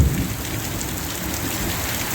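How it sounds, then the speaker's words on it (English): A torrential monsoon downpour hammers steadily and loudly on surfaces as one continuous roar, with a brief low rumble at the very start. "The next minute it was a torrential downpour."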